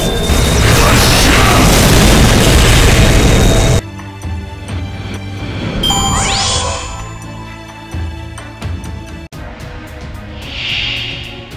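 Moonlight cannon firing in Fate/Grand Order: a loud sustained boom and roar for about four seconds, cutting into layered game effects with a rising sweep, crashes and sparkling chimes fading out.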